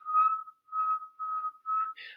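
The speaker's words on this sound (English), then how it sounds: "I can whistle through my teeth, and it's actually quite loud" A person whistles through their teeth, giving four clear, fairly loud, steady high notes in short phrases with brief gaps, ending on a slightly higher, breathier tone.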